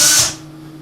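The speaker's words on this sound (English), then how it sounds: "putting a finish nail in and using it as a drill bit to pre-drill the nail holes" A finish nail chucked in a drill as a makeshift bit whirs briefly while pre-drilling pilot nail holes in the wood of a wood duck nesting box, loud at first and then dropping off quickly.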